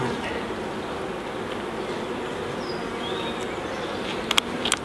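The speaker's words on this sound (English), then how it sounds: "You see the difference in the sound of this hive?" A queenright honeybee hive with a well-mated queen hums low and steady, a soft even drone with faint bird calls and a few brief clicks toward the end.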